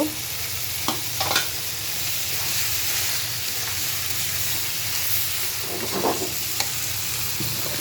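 Boiled pasta and chopped egg being stir-fried in a pan, a continuous loud sizzle with intermittent clattering stir strokes, close up and without talk.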